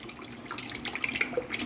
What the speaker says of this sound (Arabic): هنجيب معانا الخلاط وهنحط فيه كوباية زيت.